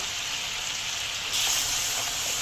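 Masala with red chili powder and salt frying in a pan for a soybean dish, a steady close sizzle that swells a little louder halfway through, with no voices.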